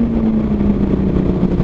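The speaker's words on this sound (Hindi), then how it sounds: "अरे सुपर बाइक का आवाज है" A superbike engine on a quiet Sunday highway, a loud close steady drone with a humming tone that holds through the short stretch, with no talk over it.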